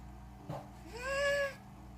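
A cat gives a single rising, drawn-out meow of about a second, moderately close, over a steady background hum, with no talk.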